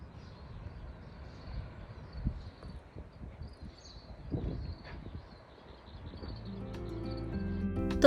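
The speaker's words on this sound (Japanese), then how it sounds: "鳥のさえずりが聞こえてくるんです" Birds chirp faintly in the morning outside a hotel villa terrace at ES CON Field Hokkaido, soft scattered calls over quiet outdoor ambience, with a low rumble building near the end.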